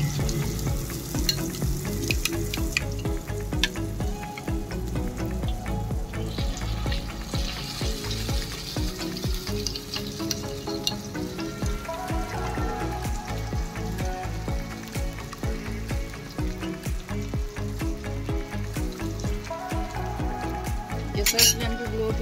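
Chicken pieces sizzling and frying in hot oil in a pan, a steady crackling hiss with occasional clinks of a utensil, close and continuous with no talking.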